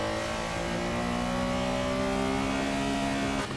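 A Lego Speed Champions Porsche race car in a VR racing simulator accelerating uphill, its engine a steady loud drone climbing slowly in pitch over a few seconds, then cutting briefly at the end.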